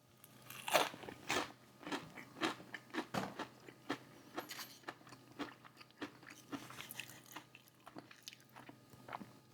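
Popeyes garlic parmesan fried chicken crunched in repeated close, crisp bites, each crackling crunch followed by a pause, loud near the mouth with no talking.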